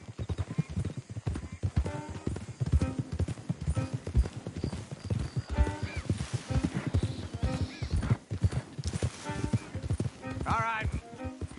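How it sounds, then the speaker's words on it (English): Horse hooves clop in a steady rhythm close by in the video game Red Dead Redemption 2, with an occasional whinny, while people talk over them. "Don't want the horses clopping around outside the window."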